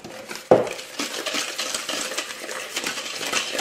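Butter, sugar and egg yolk whisked together in a bowl for a frangipane galette des rois, opening with a sharp metallic clink and then a continuous close scraping, rattling whisk rhythm, no voices.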